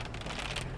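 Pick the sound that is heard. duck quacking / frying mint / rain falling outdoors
rain falling outdoors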